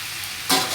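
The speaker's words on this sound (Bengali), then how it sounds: "এবার আমি গ্যাস বন্ধ করে পোস্তটা দিয়ে নেড়ে গ্যাস বন্ধ হয়ে যাবে।" Poppy seeds are stirred into kundru (ivy gourd) curry frying in a pan. A soft sizzle is cut by one brief, louder scrape of stirring near the end.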